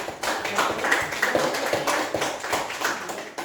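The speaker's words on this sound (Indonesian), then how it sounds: "terima kasih tepuk tangan untuk kelompok 1" Scattered classroom applause for a student group, a continuous patter of many small claps at moderate loudness lasting a few seconds, with no voices over it.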